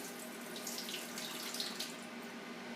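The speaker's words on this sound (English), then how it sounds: "So I'm just rinsing these off." Tap water runs steadily into a sink over nuts and seeds being rinsed for a raw vegan chocolate mint pie, a continuous close hiss and splash with no talking.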